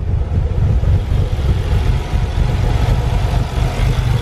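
A twin-turbo Nissan 300ZX idles roughly and unevenly up close after injector and valve cover work, a steady low rumble with a slightly lumpy pulse and no voices.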